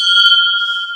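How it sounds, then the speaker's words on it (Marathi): Metal temple bell hanging overhead at a hilltop Shiva temple in Konkan, struck once and ringing on with a bright, sustained metallic tone. "आणि इकडे वरती घंटा."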